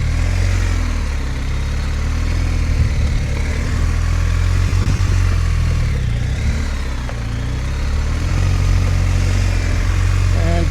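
A motorcycle riding an offset cone weave course with a chicane and figure eight, engine droning loud and steady near the microphone, rising and falling with throttle and one brief over-rev.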